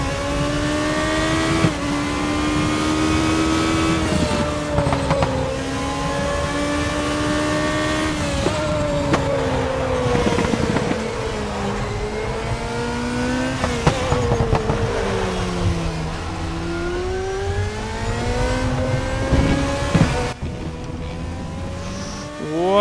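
A race car engine in the racing game Raceroom, droning loudly and steadily as it revs up through the gears, drops on downshifts and climbs again over a long lap, with no talking.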